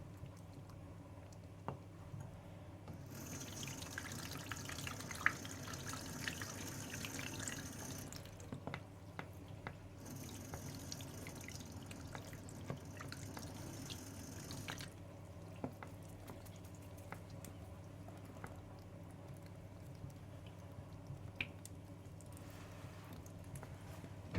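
Clear incubated eggs are rinsed under running water, a faint trickle with scattered small drips and two louder stretches of flowing tap water, no speech heard.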